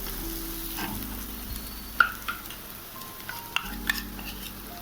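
A ground spice mix is stirred into browned frying onions for gatte ki sabzi: a soft sizzle under scraping spoon strokes and several sharp clinks against the pan, all close by.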